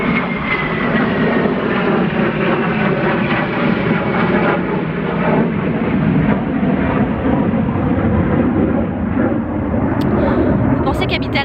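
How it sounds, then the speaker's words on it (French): A military fighter jet flies over the countryside with a loud, sustained roar that fills the whole stretch and stays steady throughout, with a few faint clicks near the end. "quand c'est pas le tracteur, c'est l'avion de chasse de guerre"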